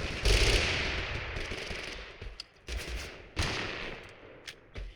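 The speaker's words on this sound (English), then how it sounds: "everybody's just shooting at me" Gunfire in Totally Accurate Battlegrounds, with several bursts and single shots at moderate distance that echo and fade between volleys, and no voices over them.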